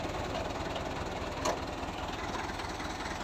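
A New Holland 640 tractor engine pulling a seven-tine chisel plough runs in a steady, loud drone throughout, with one brief sharper knock near the middle and no talk.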